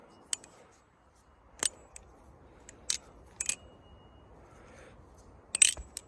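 Sharp metallic clicks and clacks from a balisong butterfly knife during an aerial trick, several scattered snaps with a louder double clack near the end, heard alone without talk.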